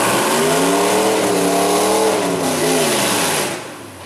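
Nearby vehicle in a mud hole revs hard, engine pitch rising and falling through gear shifts in loud sustained bursts before easing off at the end.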